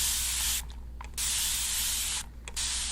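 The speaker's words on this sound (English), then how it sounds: "I'm gonna spray you with this" Spray bottle misting in two bursts at close range during a beauty salon facial roleplay, each a soft broadband hiss lasting about half a second, separated by a pause, with no talking.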